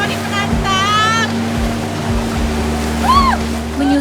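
A boat runs up the Kopu River through a strengthening, rushing current, its motor humming steadily over churning water noise, with a few voice-like tonal sounds rising briefly above it.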